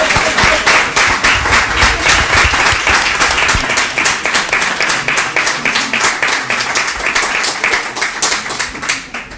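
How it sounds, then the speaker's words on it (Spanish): An audience applauds the book's author Elina at a book presentation, with loud, dense clapping that stays steady for the whole stretch and fades slightly toward the end. "Un aplauso fuerte a Elina."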